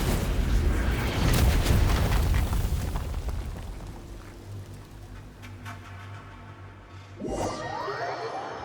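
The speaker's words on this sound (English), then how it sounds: "An enormous explosion rings out." An enormous explosion in a video game booms out as a deep, loud rumble that slowly dies away over several seconds, followed by a brighter chiming burst near the end.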